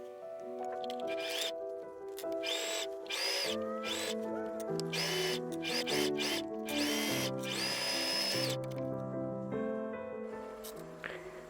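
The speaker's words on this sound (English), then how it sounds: "I also put the bias tape on and sew along the lines for both sides" Sewing machine stitching bias tape onto a dress hems, a steady continuous mechanical whir with a fast rhythmic needle chatter running unbroken for the whole stretch, close and fairly loud.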